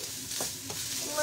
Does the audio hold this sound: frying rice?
yes